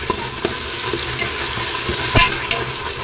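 Tomatoes and spices sautéing in a pan for a vegetable biryani, a steady close sizzle and fry with a few sharp scrapes and clicks of a stirring spoon, no voices over it.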